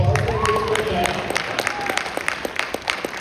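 Audience applause at a Fairly OddParents convention panel in Dallas, scattered claps tapering off under a voice speaking over it, with sparse individual hand claps continuing near the end.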